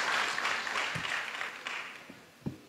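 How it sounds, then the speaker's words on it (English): Audience applause at a graduation ceremony, a fairly distant crowd clapping that fades off, with a few isolated claps at the end. "I want to give you another big round of applause"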